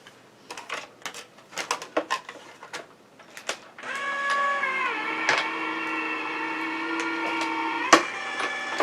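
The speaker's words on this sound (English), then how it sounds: "I am going to run it through my die cut machine." A few scattered clicks and taps give way to a die cut machine running a 3D fern embossing folder through, a steady mechanical whir with a motor whine that holds for several seconds.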